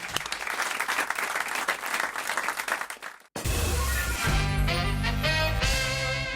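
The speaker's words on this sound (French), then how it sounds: "On vous applaudit." A French radio studio audience claps in a dense burst of applause lasting about three seconds, close and lively, before it cuts abruptly into a loud music jingle.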